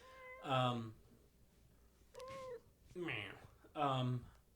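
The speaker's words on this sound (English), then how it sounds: "That's a kitty." A cat meows four times in drawn-out, tonal cries, close and fairly loud, separated by short quiet pauses.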